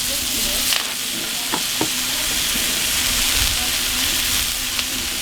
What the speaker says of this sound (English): So right now I'm just kind of searing the sides on it.